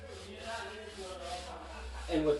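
A scrubbing pad or float rubs Ardex WA two-part epoxy grout across penny tile in short, repeated close strokes, a soft rasping scrub with a faint voice underneath.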